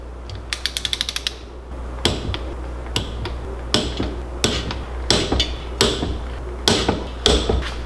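A torque wrench tightens engine bolts on a 440cc small-engine build: a quick burst of ratchet clicks, then a series of heavy, evenly spaced clunks and creaks, close and loud over a low steady hum.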